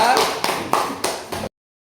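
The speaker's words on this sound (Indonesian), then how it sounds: "Berikan tepuk tangan untuk kelompok 2" A classroom of students claps for a presenting group in a short burst of four or five loud, sharp, roughly unison claps that stop abruptly.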